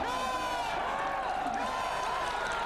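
Crowd at a strongman competition cheering and whooping during a 400 kg tire flip, a steady, dense roar of many voices that stays loud throughout with no clear individual words.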